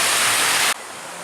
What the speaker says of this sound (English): Heading out of the main lobby is this really cool water feature thing.